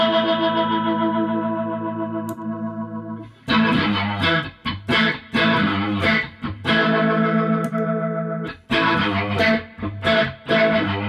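Electric guitar played through a Strymon Lex V2 rotary speaker pedal with the rear mic position: a held, swirling chord first, then loud, choppy strummed chords with gaps, up close and with no talk.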